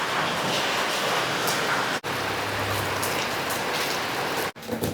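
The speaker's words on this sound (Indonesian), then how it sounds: "Tapi sekarang sudah turun hujan" Heavy rain pours outside at night in a steady, dense hiss that continues throughout, with two very brief dropouts and no voices.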